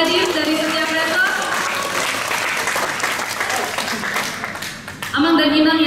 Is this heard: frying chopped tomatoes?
no